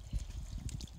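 A small waterfall gives a steady, soft rush and trickle of falling water outdoors, faint and continuous, with no voices.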